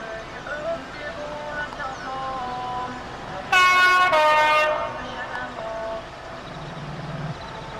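A freight train passes on a railway track, a steady rumble with a short, loud two-part horn blast in the middle, heard from nearby outdoors.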